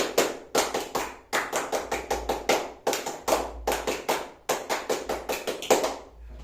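Schoolchildren repeat the "tepuk semangat" clapping chant in class, crisp near hand claps falling in rhythmic clusters with short gaps between phrases, ending with a softer trailing clap.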